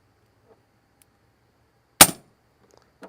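An Evanix Viper .30 air rifle fires a single sharp, loud crack partway through, followed by a brief decay, with near silence before and after apart from a faint click near the end.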